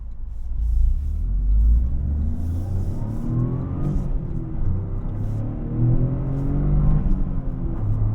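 A 2025 Toyota GR Corolla engine revs and accelerates from inside the cabin, a loud steady drone whose pitch climbs and falls through gear changes, with no talking.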